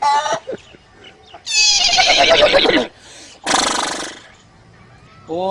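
A voice imitates a horse, giving two long, loud neighing whinnies with a quavering, throaty pitch, separated by a short pause and preceded by brief vocal sounds.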